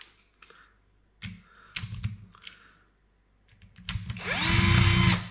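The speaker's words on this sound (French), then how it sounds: "après, je repasse un coup de tournevis pour vérifier que tout va bien." A screwdriver tightens screws on a 2022 Traxxas X-Maxx RC car: scattered close clicks and taps give way to a loud rising whir of a powered driver near the end.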